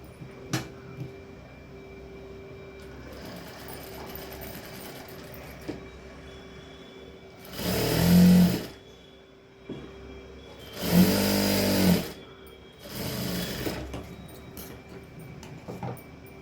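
A sewing machine stitches a small child's short blouse in three loud bursts of whirring, each a couple of seconds long. Quiet room hum and faint handling noises fill the gaps between runs.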